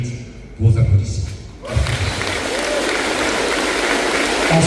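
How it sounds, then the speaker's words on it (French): Audience at a Forever company event applauds after a ranking of top countries is announced. A brief bit of low speech and thumps comes first, then sustained broad clapping from a large crowd fills the rest. "ça mérite vos applaudissements"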